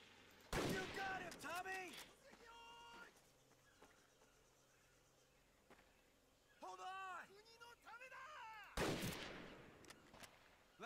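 Loud, sharp gunshots from Medal of Honor Pacific Assault ring out at the start and near the end, with bursts of chirpy, warbling effects between them.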